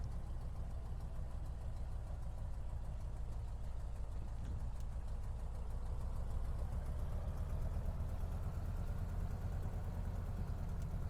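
A Beechcraft Staggerwing's radial piston engine idles and rumbles steadily while the plane taxis in Microsoft Flight Simulator 2020, a continuous low drone with no talk over it.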